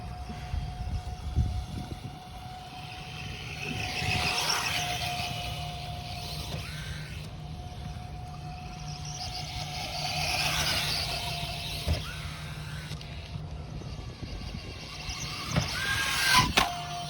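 A Losi Promoto RC motorcycle rides hard and fast with a steady high motor whine and squeal, swelling as it passes near and far, broken by sharp impact clatters of crashes, with no talk.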